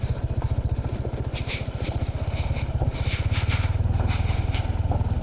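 A motorcycle engine putters in a fast, steady thump close by, with scraping crackles of tyres over rocky, stony ground on a mountain trail near Sagada.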